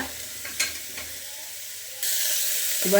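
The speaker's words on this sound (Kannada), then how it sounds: "ಒಂದು ಎರಡು ನಿಮಿಷ ಇದನ್ನು ಫ್ರೈ ಮಾಡ್ಕೋಬೇಕು" Goat legs frying with ginger and garlic in a pan: a low sizzle with a few soft stirring clicks, then a louder, steadier hiss in the final second, no voices.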